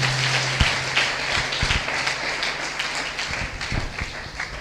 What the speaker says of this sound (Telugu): కొట్టగాలి, గట్టిగా చప్పట్లు కొట్టాలి